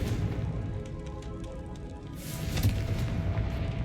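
A Confringo blasting spell in a Hogwarts video game sets off a booming, crackling blast, a sustained rumble with a louder burst partway through.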